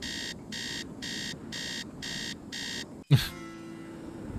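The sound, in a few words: alarm in the video game Nancy Drew: Treasure in the Royal Tower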